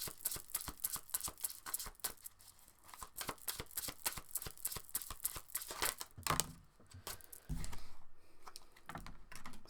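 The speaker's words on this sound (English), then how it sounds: "let's pull some more cards for that" Tarot cards shuffled by hand in a rapid run of crisp flutters and riffles, close and fairly quiet, ending with a few heavier slaps and bridging sounds as the deck is squared.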